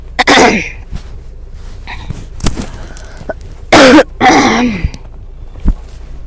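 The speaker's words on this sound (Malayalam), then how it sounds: "എനിക്കിപ്പോഴേ ചുമ വന്നു" Someone coughs and splutters several times up close in cold outdoor air, harsh bursts separated by short pauses, with rustling between.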